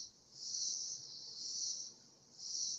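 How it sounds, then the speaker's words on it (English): Cicadas buzz in a backyard, a continuous shrill, high-pitched drone that swells and eases in waves, steady and fairly close, with no voices over it. "Is that your cicadas or is it in my backyard?"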